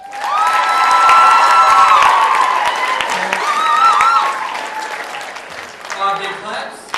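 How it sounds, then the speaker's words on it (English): An audience at a junior high school candidate speech event claps and cheers after a student's speech, a loud sustained burst of applause with shouts that slowly fades near the end. "Big claps."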